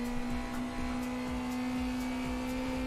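An NSU TT car races in RaceRoom with a steady, high, buzzy engine whine that holds one sharp tone, like a power drill, along with a faint rhythmic pulse, loud and alone.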